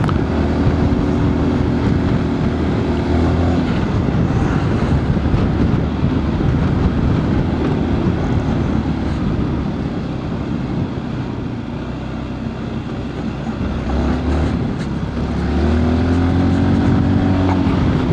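A Honda ADV350 scooter's engine drones steadily while riding, a loud continuous hum mixed with road and wind rumble that dips briefly before swelling again.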